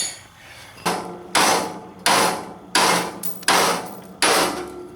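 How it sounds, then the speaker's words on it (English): Hammer blows knocking ball joints loose from a steering knuckle during a front suspension teardown, six loud, sharp metallic strikes close by at an uneven pace, each ringing briefly before the next. "Now I'm going to go ahead and pop these ball joints to get the steering knuckle apart."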